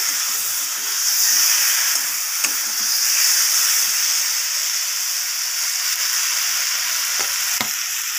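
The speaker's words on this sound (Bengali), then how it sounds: "আলুগুলো দিয়ে মশলার সাথে আমি কষিয়ে নেব।" Potatoes and pointed gourd fry in a spice masala, a steady bright sizzle and hiss with faint stirring taps and scrapes, close and continuous with no talk.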